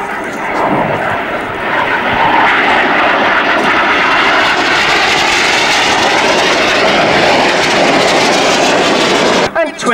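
A Hawker Hunter jet synchro pair roars past while flying barrel rolls at an air display, a loud, sustained engine rush that fills the whole stretch before cutting away at the end, with a commentator's voice faintly under it.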